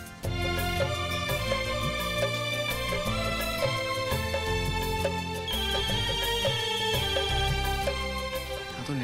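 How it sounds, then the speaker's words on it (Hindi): A mobile phone ringtone plays as a bright, repeating electronic melody, loud and close, continuing steadily for several seconds with no one speaking over it. "फोन कहाँ से आ रहा है?"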